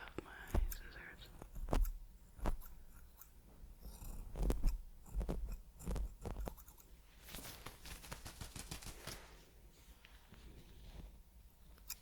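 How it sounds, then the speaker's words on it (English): Scissors snip close to the microphone during an ASMR ear-cleaning hair trim, a series of quiet, irregular crisp cuts and light scratchy handling noises, interspersed with soft whispering. "Of course, I have my scissors."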